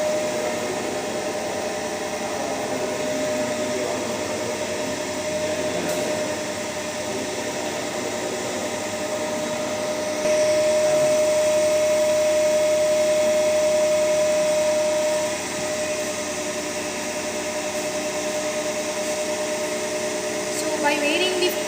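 A running alternator feeding a 200-volt transformer gives a loud, steady mechanical hum and whir with a constant tone throughout, getting a little louder partway through, with no voices.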